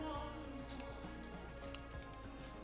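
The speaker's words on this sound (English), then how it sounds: "For this project, I'm going to be trimming this pom-pom." Scissors snip at a yarn pom-pom close by, quick faint cuts in a short cluster over a low background hum, with a voice briefly present.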